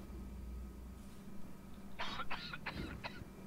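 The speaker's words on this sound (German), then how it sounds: "Irgendjemand hustet?" Four or five quick coughs from one person in a single burst, fairly close and clear over a low steady hum, during a GTFO game session with no talking.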